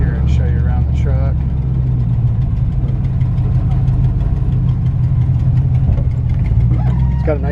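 A 1966 Chevrolet C10 shortbed pickup with an aftermarket cam idles steadily and loudly nearby with a lopey rumble, and someone talks over it.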